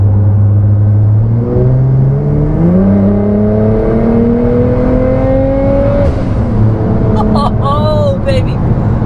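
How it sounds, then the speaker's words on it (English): A 2018 Nissan GT-R at full throttle in sixth gear gives a loud, close engine drone that climbs steadily in pitch, with a few whirring tones near the end and no pause. "I'm in 6th gear, and if I floor it, let's see where I get down to."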